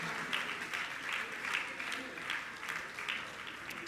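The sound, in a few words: audience applause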